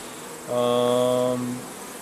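Young nurse honeybees too young to sting buzz loudly while being handled roughly, a steady close droning hum with layered harmonics lasting about a second before fading.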